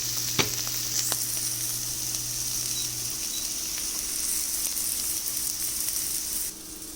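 Ingredients for a protein pizza sizzle and fry in a pan, with a steady bright crackle and occasional scraping stir clicks up close, the sizzle dropping slightly toward the end.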